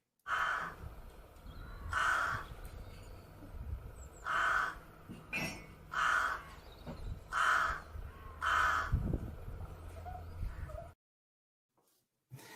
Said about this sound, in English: here's a Rook and what a Rook sounds like